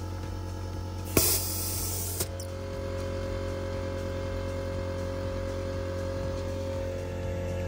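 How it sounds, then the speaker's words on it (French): An air compressor repressurizes while inflating the tyres of a 1985 Peugeot 505, a steady mechanical hum throughout with a short loud hiss burst of air near the start, recorded close up without talk. "comme vous pouvez l'entendre, le compresseur s'est remis en pression"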